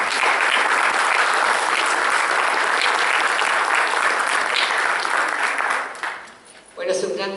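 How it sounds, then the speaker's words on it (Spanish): Sustained audience applause at a magistral lecture, a dense steady clatter of many hands filling the hall for about six seconds before fading out, followed by a brief sound at the end. "es un honor recibir un voto de aplausos"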